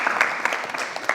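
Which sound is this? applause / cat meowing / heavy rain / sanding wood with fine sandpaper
applause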